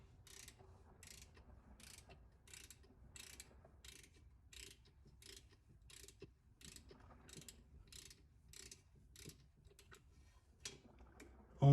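A hand ratchet clicks in a quick, steady run of about twenty sharp strokes while pressing a wheel bearing into place against its flange, close and clear with no talking.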